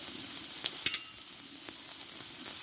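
Onion, cumin seeds, nigella seeds and garlic frying in a pan, a soft steady sizzle with a few sharp pops and crackles, one brief louder burst near the start, close by and alone.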